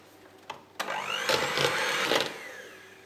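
An electric hand mixer whirs through red velvet cake batter, starting with a click and rising into a steady, close motor drone that wavers in pitch as it works the bowl.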